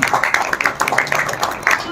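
A gathering marking Parents' Day at an old-age home in Udaipur breaks into loud, dense applause for a short burst, with voices mixed into the clapping.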